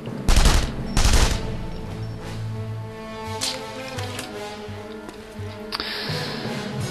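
Gunfire from The Saboteur video game: two loud, close shots open the scene, followed by scattered lighter shots over a steady game soundtrack with no talk.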